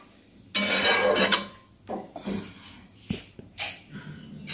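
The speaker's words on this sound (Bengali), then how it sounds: "এবার আমি তরকারিটা নামিয়ে নিই" A pot of mixed vegetable curry is lifted off a stove, giving a loud burst of metal clatter and scraping followed by a few lighter knocks and clinks, close by.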